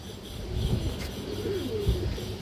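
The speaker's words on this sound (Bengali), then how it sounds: "কালদম মাদি কবুতর আছে হাই ফ্লাই কালদম মাদি" An Indian high-flyer Kaldom female pigeon coos softly, with low, warbling, drawn-out calls over a steady hum of background noise, fairly close and without talk.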